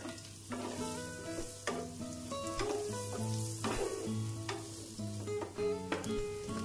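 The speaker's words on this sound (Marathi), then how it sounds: "कांदा टाकून आता कांदा परतून घेऊया." Chopped onions sauté in butter or oil for a matar paneer, a steady broadband sizzle running throughout with scattered clinks of a spoon against the pan, fairly close and with no voices.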